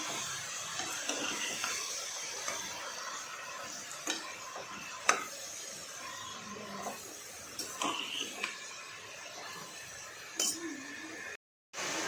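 Spices such as salt and Kashmiri red chili are stirred into an onion and potato curry in a pan, making a continuous low sizzle with scraping strokes and occasional sharp clinks of the spoon against the pot, close up with no talking.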